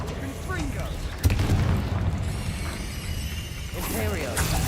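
A Confringo explosion spell goes off in the video game Hogwarts Legacy: a sudden booming blast followed by a crackling, rumbling fiery burst, loud and close over game sound effects.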